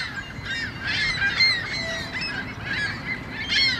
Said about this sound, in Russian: И гуси тут как тут